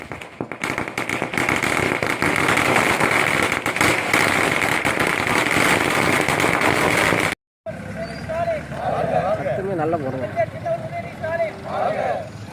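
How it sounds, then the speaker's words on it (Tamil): Firecrackers bursting at a political party celebration in Sathankulam, Tamil Nadu, as a loud dense crackling barrage for about seven seconds, then a brief gap and quieter background noise with distant voices. "சாத்தான்குளம் ஒன்றிய திமுக சார்பில் பட்டாசு வெடித்து கொண்டாட்டம்"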